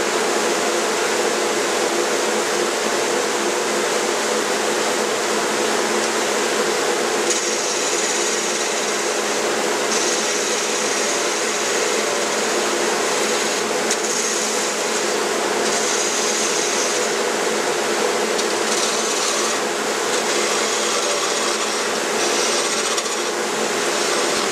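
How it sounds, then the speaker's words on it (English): Steady rasping scrape of a bowl gouge cutting a wooden drink muddler spinning on a lathe, a continuous close hiss with brief shifts in tone as the tool moves along the piece. "And use my bowl gouge and just do a little fancy stuff."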